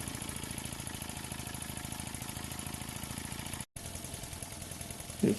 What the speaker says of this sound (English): It certainly runs quiet,